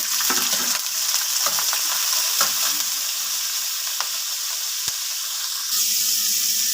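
Steady, loud sizzling of chicken necks frying in hot oil in a pot, with occasional stirring clinks and scrapes; no voices.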